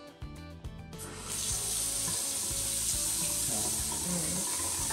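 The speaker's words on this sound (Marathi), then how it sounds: "गरम पाणी आणि गार पाणी असे दोन आपले टॅब आहेत." Hot and cold water taps in a home sink are turned on one after the other, a few brief knocks giving way to a steady, loud gush of running water that fills the rest of the clip.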